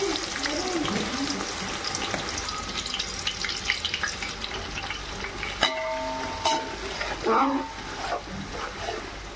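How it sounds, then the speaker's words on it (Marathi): Onions fry in hot oil for chicken biryani, a continuous, close crackling sizzle with occasional stirring and scraping sounds and a faint voice in the background. "तेल गरम झालं, आपण त्याच्यामध्ये आता कांदा आपण फ्राय करून काढणार आहोत।"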